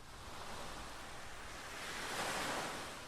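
Synthesizer imitating ocean waves opens a 1989 song, a soft, steady wash of surf-like noise that swells gently and rolls on alone without a break.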